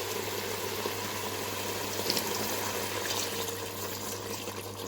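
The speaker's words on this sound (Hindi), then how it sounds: "अब हम इसमें ऐड करेंगे 1 गिलास पानी।" A glass of water is poured into beef karahi cooking in a pan, making a steady rushing, hissing liquid sound that holds for several seconds with no talking.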